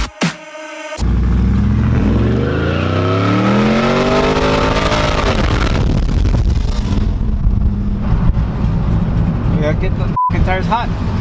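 A GMC street-racing vehicle revs hard while heating its tires, its engine note climbing and sweeping upward as it builds, loud and close, continuing steadily after a short opening burst of music-like tones.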